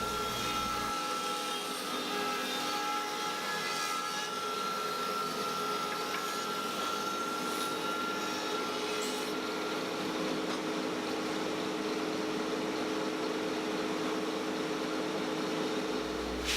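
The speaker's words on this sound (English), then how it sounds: "so I'm ready to go ahead and plane these." A power planer running through old pallet wood boards, a continuous loud machine whine and roar that holds steady for the whole stretch.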